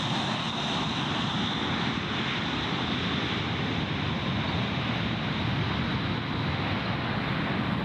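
Jetstar flight 406, a passenger jet, touching down at Gold Coast Airport, heard as a steady, broad engine roar that holds constant throughout, with no speech over it.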